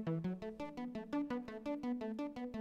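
Layered gritty, distorted synths for a worship song play the same repeated pulsing notes together, a steady quick rhythm of bright buzzing tones that shift pitch every few beats, loud and alone.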